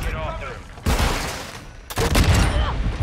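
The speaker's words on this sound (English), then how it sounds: "Don't let that nade hit me." Grenade blast and gunfire in a Call of Duty game, sharp bursts of shots and a booming hit in quick succession, loud and close, mixed with game noise.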